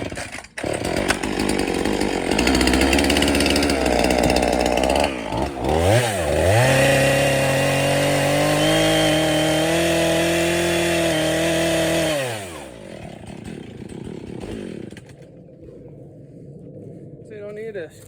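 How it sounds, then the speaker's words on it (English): A chainsaw roars loudly as it cuts wood, revving up and down for several seconds before winding down to a quieter idle. "you don't need a skill saw when you got a chainsaw"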